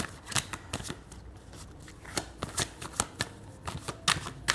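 Tarot cards are shuffled by hand close up in a quick series of crisp, papery riffles and slaps, arriving in irregular bursts with short gaps between them and no talking.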